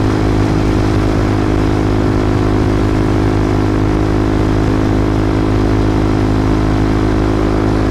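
Wind rushing over a rider on a Honda CB300F naked motorcycle with the windshield removed, a loud constant roar mixed with steady engine drone on a very windy day, no talk.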